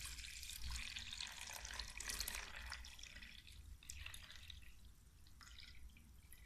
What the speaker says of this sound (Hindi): 500 ग्राम पानी डालने के बाद